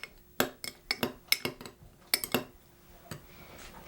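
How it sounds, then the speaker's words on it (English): Spoon clinking against a bowl while an herb and lemon paste is stirred together, a quick irregular series of sharp taps that trails off toward the end. "Now, I'm just going to stir these together."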